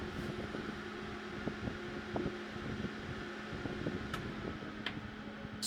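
A small DIY HEPA air purifier fan powered over USB runs steadily, giving a continuous faint whooshing airflow hum with a light tonal whine, close and unchanging throughout.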